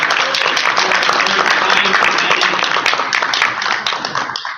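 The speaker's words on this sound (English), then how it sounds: "please give Stephanie a round of applause" An audience at a business opportunity presentation gives Stephanie a round of applause: continuous, loud clapping from a crowd, close and dense throughout, thinning out slightly as it ends.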